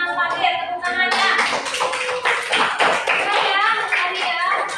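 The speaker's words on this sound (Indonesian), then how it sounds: "Didengarkan terus untuk kelompoknya Mas Fatin, tepuk tangannya." A classroom group claps for a presenting group of students, brisk dense applause from several people nearby that swells after a moment and keeps going, with a voice briefly over the start.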